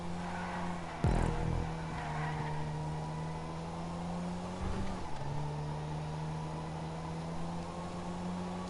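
A supercharged Weeny Issi Classic small car driving in GTA 5, a steady engine hum that dips with a bump or gear change near one second and again near five seconds, close and continuous.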